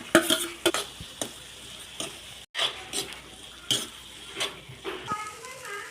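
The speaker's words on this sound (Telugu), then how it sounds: "కొద్దిగా ఉల్లిగడ్డ మగ్గాక కాన్స్ వేసుకోవాలండి ఇలా ఫ్రై చేసుకోవాలి" Onions and sweet corn kernels fry in oil for a samosa filling, a soft sizzle underneath repeated rhythmic scrapes and clinks of a spoon stirring against the pan.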